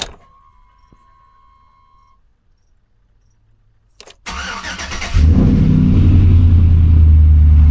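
Chevrolet Silverado engine cranking and firing up after an ignition tumbler replacement: a quiet stretch with a faint click, then a sudden loud start at about four seconds settling into a strong, steady close idle.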